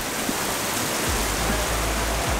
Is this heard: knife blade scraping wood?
no